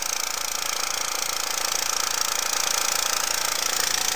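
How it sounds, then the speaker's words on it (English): Two engines of a maple sap gathering system run with a loud, steady drone and a dense mechanical roar that holds constant throughout, no voices present. "I got two engines running here."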